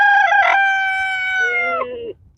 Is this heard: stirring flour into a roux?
no